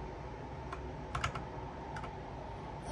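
Keys clatter in a few quick bursts on a cheap gamer keyboard, fairly faint against a steady background hiss, with no one speaking.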